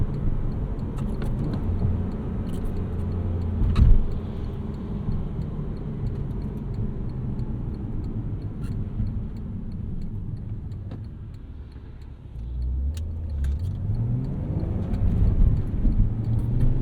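Low engine drone from a 2011 Porsche Cayman 987.2 base with a six-speed manual, running while driving, steady with a brief bump and a rising rev toward the end, heard from inside the car without talk.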